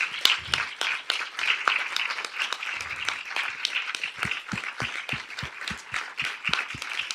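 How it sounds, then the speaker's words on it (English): Audience at an environmental justice keynote applauding, a dense sustained patter of many hands that thins into slower, sharper individual claps near the end. "Please give her a round of applause."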